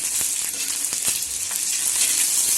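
Cumin, garlic cloves and finely chopped green chillies sautéing in oil for a spicy okra dish, a bright continuous sizzle with a few sharp stirring taps against the pan.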